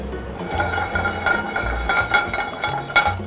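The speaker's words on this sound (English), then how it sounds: "We're just gonna toast a little garlic until it's fragrant" Garlic toasts in olive oil in a pan, with a steady low sizzle under soft stirring and metal utensil clinks scraping against the cookware.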